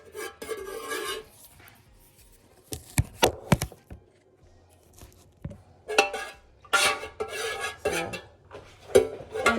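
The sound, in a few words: stirring melted beeswax candle mixture in a pot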